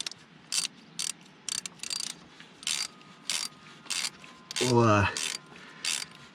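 A ratchet snugging bolts on a 420 crawler dozer, working in short bursts of rapid clicking separated by brief pauses, close and loud, with one longer grinding pull near the end and a single word spoken.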